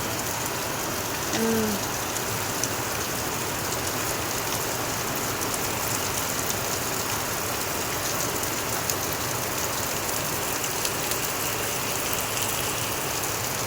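A constant roar of heavy rainfall drums on surfaces nearby, loud and even throughout, with a brief faint chirp early on and no talking.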